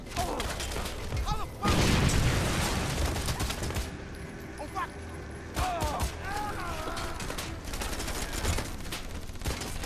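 Rapid bursts of gunfire and explosions fill the video game Wanted: Weapons of Fate, with a louder booming stretch early on, mechanical clatter and intermittent volleys. A voice talks in the background.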